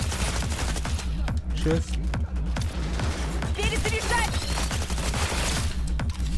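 Rapid gunfire in Cyberpunk 2077 Phantom Liberty fills the whole stretch as dense, continuous bursts of shots mixed with combat noise, with brief speech underneath.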